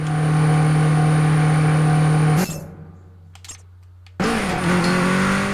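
Racing car in the video game Super Street The Game revs and drifts with a loud sustained engine drone, cuts out abruptly to near silence for a couple of seconds, then roars back in.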